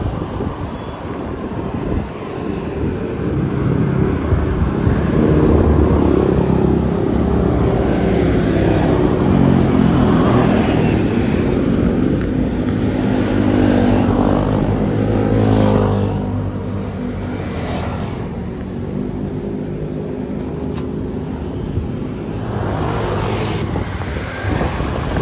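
A motorbike with a broken, cut-through muffler pipe runs loud and raw, its engine revving and surging over steady wind buffeting, close by and continuous.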